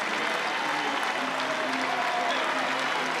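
Sustained applause and cheering from a large crowd at a North Carolina college baseball game in Chapel Hill, a dense steady roar of clapping that holds at full level throughout.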